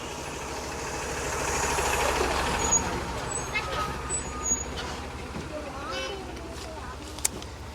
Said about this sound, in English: There's a bus gonna knock me down any second here.